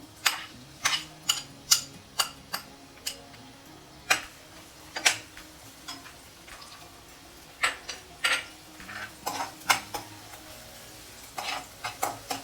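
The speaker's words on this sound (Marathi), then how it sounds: "यामध्ये घ्यायचं थोडंसं तेल ह्याच्यामध्ये थोडस लसूण टाकायचा" Crushed garlic fries in a little oil with a soft, low sizzle under sharp spatula taps and scrapes that come at an irregular pace, close up. No one speaks.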